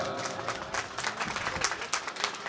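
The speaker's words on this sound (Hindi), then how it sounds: "जो होस्ट है पर जोरदार तालियां हो जाए।" An audience at a blood donation camp breaks into steady, enthusiastic applause, many hands clapping together at moderate volume.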